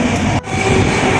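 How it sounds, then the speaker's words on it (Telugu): The Bhagyanagar Express runs fast at roughly 100 km/h, heard as a loud, continuous rail rumble and roar with a brief dip partway through and no talking. "సో గైస్ ట్రైన్ వచ్చేసి నియర్లీ 102, 103 స్పీడ్లో ఉంది గైస్. చాలా ఫాస్ట్గా వెళ్తుంది అన్నమాట."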